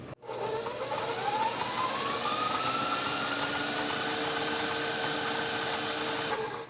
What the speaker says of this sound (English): I'm just going to beat my butter and sweetener together